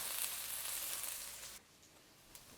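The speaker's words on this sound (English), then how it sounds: "add in our garlic and saute that for a few seconds" Garlic sautéing in a hot pan for a Khmer kreung dish, a bright hissing sizzle that holds steady and then drops abruptly to a much quieter, softer crackle, with no voices present.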